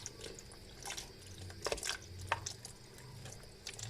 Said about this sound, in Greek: Την ανοίγουμε λίγο και γεμίζει νερό.